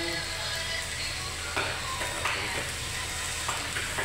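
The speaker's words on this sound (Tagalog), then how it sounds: "Fried rice." Fried rice sizzles loudly and steadily in a pan for breakfast, with a few sharper scrapes of stirring cutting through the constant crackle.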